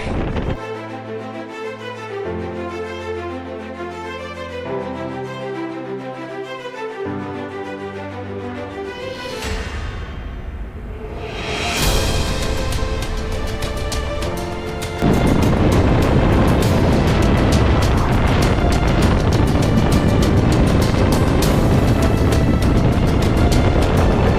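Strong wind buffets a hilltop summit on Pen y Fan in thick cloud with zero visibility; after a musical opening, a loud, steady roar of wind noise takes over and holds to the end.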